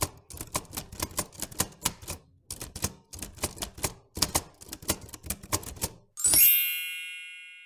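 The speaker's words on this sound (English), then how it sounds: "The correct answer is typewriter." Rapid, uneven clacking of a mechanical typewriter's keys, loud and close, in bursts separated by short pauses, then a bright ringing ding that fades away at the end.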